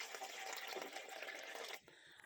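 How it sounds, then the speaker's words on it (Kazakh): Cold water pours in one continuous, quiet rushing stream into a large old Soviet pot, then thins to a faint trickle near the end. "Суық суды құйып, иығына дейін құйдым суық суды."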